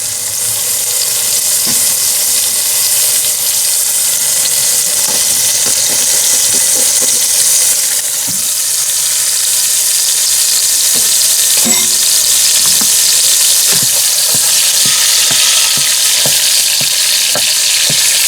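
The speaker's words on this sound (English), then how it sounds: "I'm going to throw the turkey burger in and brown it up real quick" Ground turkey burger browns in a pot on a stovetop burner, a loud continuous close sizzle and crackle with frequent scraping taps from a stirring utensil.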